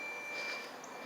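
A Letwesaf radar perimeter alarm receiver gives a steady high electronic beep, one sustained tone that holds for most of a second before cutting off, faint and alone.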